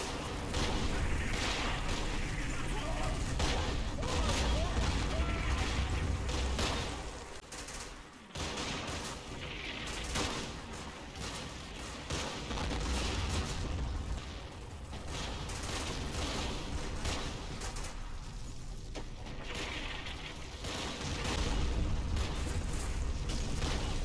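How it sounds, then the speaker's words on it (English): Heavy gunfire in a Combat Mission battle at Monte Cassino, Point 593, as Fallschirmjäger are caught in a crossfire: loud, near-constant volleys of rifle and machine gun shots with booming impacts, dipping briefly mid-way before surging again. "The Fallschirmjäger are caught in a crossfire."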